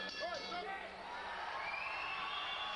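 A fight crowd at a Draka fights event cheering and shouting after a flurry of punches, a dense roar of voices with whoops rising and holding, heard at a distance under a commentator's talk.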